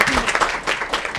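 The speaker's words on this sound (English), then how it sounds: "Give her a round of applause." At a broadband adoption forum panel, the audience gives a brief round of applause, quick overlapping claps that rise and fade within about a second, with a voice briefly audible underneath.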